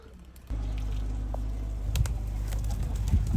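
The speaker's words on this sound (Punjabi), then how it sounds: "ਹੁਣ ਨਾ ਛੇੜੀ ਸੈਮੀ, ਕਬੂਤਰਾਂ ਨਾਲ ਲੜਨ ਦੇ ਹੁਣ ਇਹਨੂੰ, ਹੁਣ ਨਾ ਛੇੜੀ।" Pigeons at a rooftop loft give low, soft coos over a steady low hum, with a few brief flutters and scuffles near the end.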